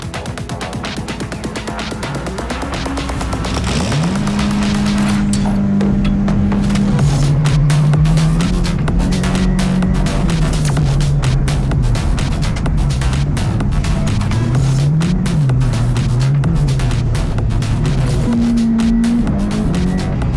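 Supercar race car engine warming up, a loud continuous drone that rises and falls through gear changes as it accelerates, heard from inside or close by without pause.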